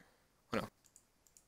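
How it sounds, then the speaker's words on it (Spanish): A computer mouse is double-clicked while setting up the MAME emulator: one short, bright, close click burst, then a few faint ticks on quiet room tone. "Pues bueno, doble clic."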